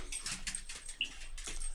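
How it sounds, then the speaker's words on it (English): An impatient dog whimpers quietly indoors in short, thin, high whining bursts that come and go over a soft background. "I have an impatient dog here."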